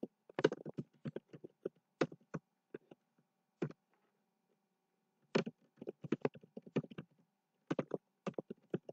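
Computer keyboard typing out JavaScript code, irregular bursts of close, crisp key clicks separated by short pauses and one longer gap in a quiet room.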